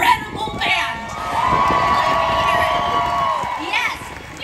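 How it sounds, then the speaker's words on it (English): A theatre audience at a Disney on Broadway concert cheers and whoops for the band, a loud, sustained crowd roar that swells and holds for several seconds. "we want to give a huge round of applause to this incredible band."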